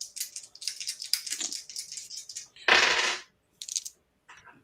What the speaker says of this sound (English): I'll roll some dice